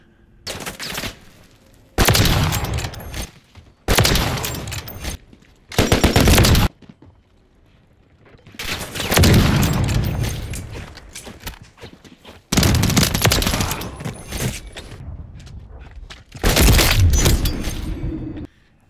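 Loud bursts of SPX 80 sniper rifle fire from a video game, about six separate volleys with short gaps between them, sharp and close with no talk.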